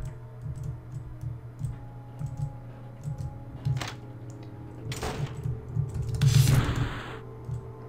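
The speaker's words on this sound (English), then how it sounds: "Sorry, I know the keyboard's probably really obnoxious," Computer keyboard keys click quickly and steadily while someone plays a game, with a few louder clacks near the end over a low electronic hum.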